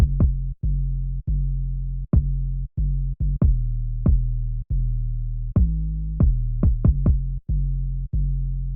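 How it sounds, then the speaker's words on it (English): Kick drum and 808 bass soloed together: a loud, booming low-end pattern of punchy kick hits with sustained, sliding bass tones between them, repeating in a rhythmic groove with no voices. "Now let me solo the kick and the 808."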